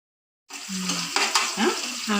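Oil sizzles steadily after a short silence, with stirring and a few clinks as onions fry in a pan.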